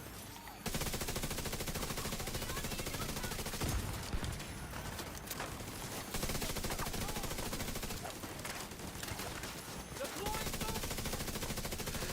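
Automatic gunfire in The Division 2, rapid sustained bursts of machine-gun fire roaring nearly nonstop with brief gaps, loud and dense, with a voice talking faintly underneath.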